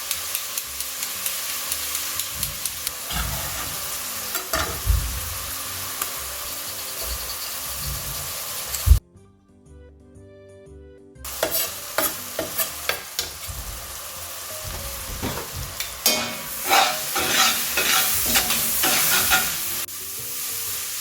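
Chopped onion and celery frying in hot oil in a pan for a lamb ragu, a steady sizzle with scraping and stirring from a utensil, a brief quiet gap midway, then louder crackling and stirring, no talk.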